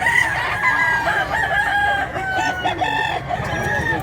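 Roosters crow and hens cluck at a chicken sale, several birds overlapping in drawn-out crows and clucks over a steady crowd murmur, fairly close.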